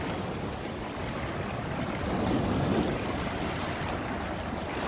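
Rough waves on Lake Ontario roll and wash steadily against the shore, a continuous broadband surf swelling slightly midway, mixed with gusty wind buffeting the microphone.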